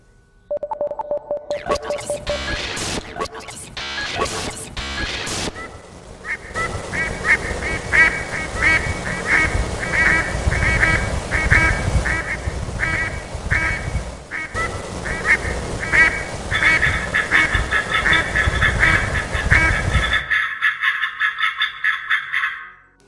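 Mallard ducks quack loudly and continuously in a noisy chorus, close and overlapping, over a steady background that ends abruptly.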